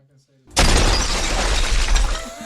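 Glass shatters suddenly and loudly after a brief quiet moment, the crash and scattering debris filling the rest of the moment, during an interview.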